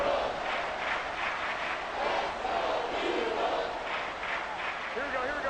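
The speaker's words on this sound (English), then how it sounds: "this crowd is making an impact right now" A stadium crowd at a Raiders football game roars in a broad, sustained wash of cheering with rising surges, heard at a distance, while a voice speaks faintly over it near the end.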